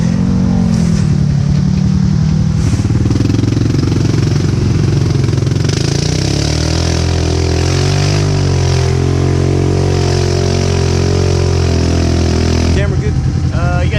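A Honda Rubicon ATV revs hard as it pulls a stuck Polaris out of a sinkhole. The engine drones loudly and shifts pitch throughout, with voices talking over it.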